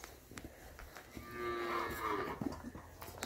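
Cattle moo on a farm in El Salvador, one long drawn-out low call rising in the middle, fairly close, with soft rustling and ambient noise around it and no talk.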